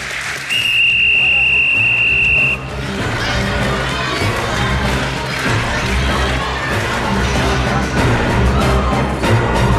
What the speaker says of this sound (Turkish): Düdük